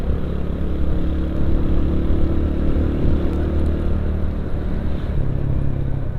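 A motorcycle in fourth gear coasting downhill hums steadily at a constant moderate pitch, close by, with no acceleration, just a smooth continuous drone.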